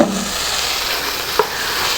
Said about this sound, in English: brown or cook the bacon and the sausage